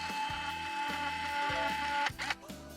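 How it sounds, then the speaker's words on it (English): A camera photo printing out in the video game Rec Room, a steady mechanical whir with rhythmic low thumps running for about two seconds before stopping, followed by a few short clicks. "and then printing it out."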